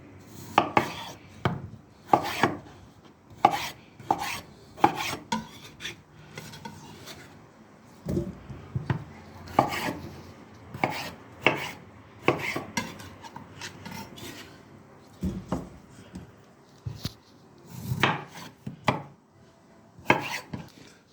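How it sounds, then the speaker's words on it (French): A knife cuts potatoes into quarters or sixths on a board, sharp close chops in irregular clusters with brief pauses and some scraping between cuts. "vous coupez vos pommes de terre. Alors coupez-les soit en 4 ou comme moi je fais en 6"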